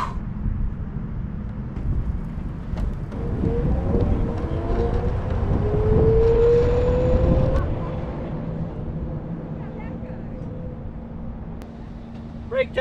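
A Honda Motocompacto electric scooter in its more powerful mode accelerates with a faint rising electric whine that climbs in pitch over a few seconds, then fades as it moves off amid low background rumble.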